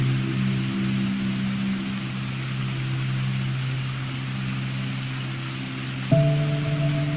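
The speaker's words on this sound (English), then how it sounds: "the quiet rhythm of the rain" Steady rain falls on a surface as a continuous even patter, close and moderately loud, with a low steady tone underneath and no talking.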